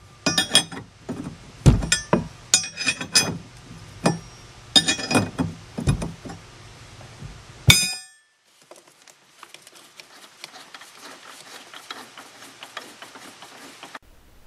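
Metal tools clank and click in irregular bursts while a long pry bar braces against a large propshaft coupling nut as it is loosened, followed by quieter faint tapping and handling noises.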